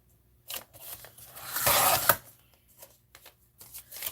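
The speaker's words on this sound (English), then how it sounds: "Take a cutter and cut it." A craft cutter slicing through paper while a time-card booklet is made, giving a close scraping cut that swells into one longer rasping stroke with softer scratches before and after, and no talking.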